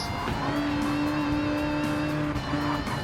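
Racing game car accelerating, a steady loud engine drone with a sustained pitch line and revving shifts, other cars audible in a bunched pack, no talk.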